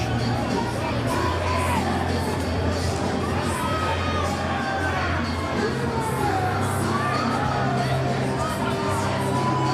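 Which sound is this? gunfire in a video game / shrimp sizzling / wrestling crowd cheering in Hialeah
wrestling crowd cheering in Hialeah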